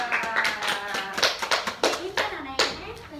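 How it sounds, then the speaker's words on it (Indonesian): Classroom students clap for a presenting group during a science lesson: a handful of sharp, uneven claps over about three seconds, mixed with children's voices talking. "Oke, tepuk tangan dulu, tepuk tangan buat kelompok 2."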